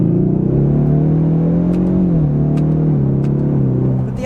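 A 2024 Ford Mustang EcoBoost engine revs steadily in the cabin, its droning pitch climbing and then dropping at each upshift, loud and continuous with no talk.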